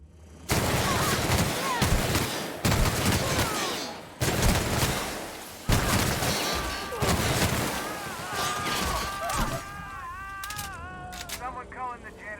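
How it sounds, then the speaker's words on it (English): Plasma weapons fire in The Outer Worlds in loud, sharp bursts of repeated shots, mixed with voices talking, then fades to whirring, warbling tones at the end. "She's really shooting!"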